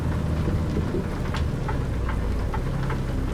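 Steady rain and rumbling thunder in American Truck Simulator during a drive toward Oklahoma, a dense, even downpour with a low continuous roll throughout and no talk.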